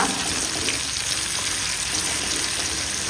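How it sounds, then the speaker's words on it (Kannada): Ground masala paste frying in ghee for a Mangalore-style crab ghee roast, producing a thick, even crackling sizzle heard close and continuous for a few seconds with no speech. "ಗ್ರೈಂಡ್ ಮಾಡಿದ ಮಸಾಲ ಪೇಸ್ಟ್ ತುಪ್ಪದಲ್ಲಿ ಎರಡು ನಿಮಿಷ ಇದನ್ನು ಚೆನ್ನಾಗಿ ಫ್ರೈ ಮಾಡುವ"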